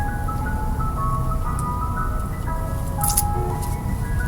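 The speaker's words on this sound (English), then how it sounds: "The ice cream truck is like so dainty in the background" An ice cream truck's tinkling jingle plays steadily in the background, a faint melodic chime over low rumbling ambient noise, with no one speaking.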